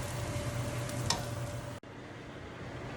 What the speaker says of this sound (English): Right now I'm sauteing some cauliflower rice in oil, garlic, and onion